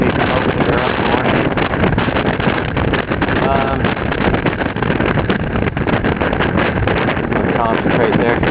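Strong wind gusts buffet a Puddle Duck sailboat out on Sarasota Bay, a loud, steady rushing roar across the whole stretch with no lull.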